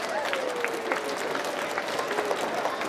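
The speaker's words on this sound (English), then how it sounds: "Give a round of applause for the parents here" An audience applauds the parents at a young inventors' keynote event, with steady, even clapping throughout, a faint voice sliding underneath.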